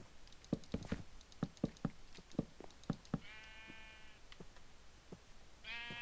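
Sheep bleat in a Minecraft game, two short wavering bleats standing out over a run of soft blocky footstep taps and clicks, fairly close and clear with no talking.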